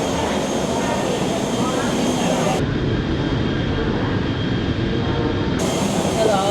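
Boeing 777 airliner at boarding time before a 4 a.m. flight, with a steady, loud broadband roar of jet engines running continuously throughout, like a constant engine drone heard from close by.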